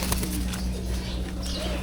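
A large-size pigeon gives soft, low cooing among other birds, close by, with faint background chatter and rustling.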